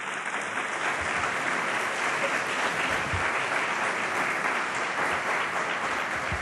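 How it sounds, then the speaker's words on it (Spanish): An audience at a memorial concert of traditional Asturian song applauds with a sustained, even patter of clapping that holds at a steady level throughout. "que hay que pedir un aplauso para él también."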